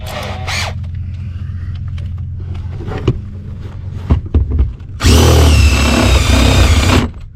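A power drill fitted with a step bit bores out and enlarges a hole in a truck cab, loud and continuous for about two seconds near the end, after quieter scraping and handling noises.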